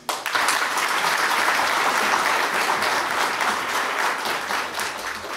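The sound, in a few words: audience applause at political speech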